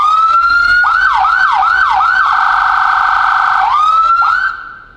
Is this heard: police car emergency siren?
yes